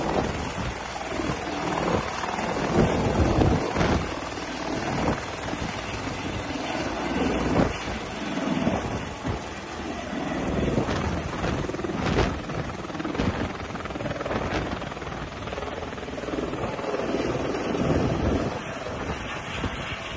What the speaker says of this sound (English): We're going to share a short little helicopter video